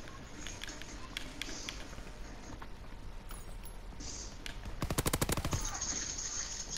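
Gunshots in the video game Call of Duty WWII, scattered single cracks early on, then a quick rapid burst of automatic fire around the middle, fairly quiet under a soft game background.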